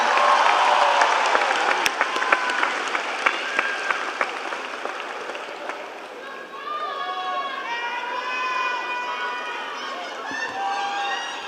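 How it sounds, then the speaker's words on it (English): A high school graduation audience applauds the chorus, dense clapping and crowd noise for several seconds that then gives way to a voice speaking over a quieter crowd. "Can we give another round of applause to Mr. Harmon and the IC Norcom High School Chorus?"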